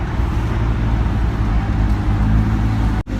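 A 2017 Lamborghini Huracan Spyder LP610-4 on a test drive, heard from inside as a steady, loud low engine and road rumble with no break until a sudden brief dropout near the end.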